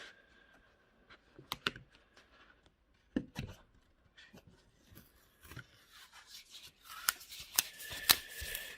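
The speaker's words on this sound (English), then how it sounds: "start removing the Kraft-Tex" Soft rustling, crinkling and sharp peeling snaps as cut Kraft-Tex faux leather is pulled off a cutting mat, quiet and close, growing denser and louder toward the end.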